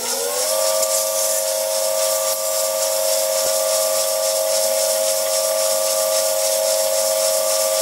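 A workpiece is polished on a lathe. The motor whine rises in pitch at the start, then holds a steady tone under a constant loud hiss of polishing, broken only by an occasional faint tick.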